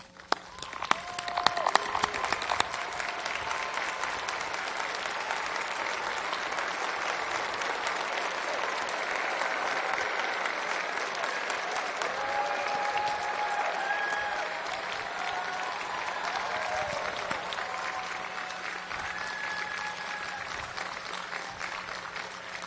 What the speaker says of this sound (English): Graduates, let's stand and applaud your families and friends.